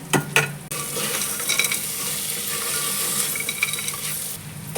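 Lentils sizzling and being stirred in a hot pan, with steady frying hiss and occasional scraping clinks of a spoon against metal.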